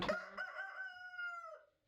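A rooster gives a single clear, drawn-out crow nearby, rising and then falling away, faint but isolated against a quiet background.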